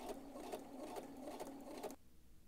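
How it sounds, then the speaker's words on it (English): A sewing machine stitches down a fabric strip for a rouleau strap, a quarter inch from the fold, humming with a rapid steady rhythm for about two seconds before stopping abruptly; close and alone, fairly quiet. "I'm stitching all the way down the strip, again, a quarter inch from the fold"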